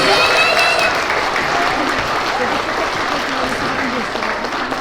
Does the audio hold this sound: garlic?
no